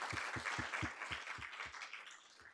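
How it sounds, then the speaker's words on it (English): Faint applause from an audience at a youth charity webcast, a soft wash of clapping with a few low thumps pulsing underneath, fading toward the end. "A big round of applause for them."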